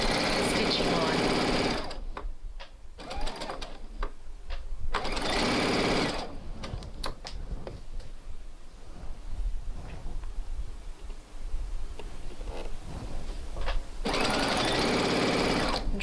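A domestic sewing machine stitches fabric along a sleeve seam, running in fast loud bursts separated by pauses, with a voice talking during the quieter stretches.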